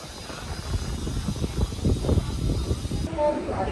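A special train speeds past on the Coimbatore–Shoranur line, a loud, continuous rumble and rattle of wheels and coaches close by, filling the whole stretch without pause.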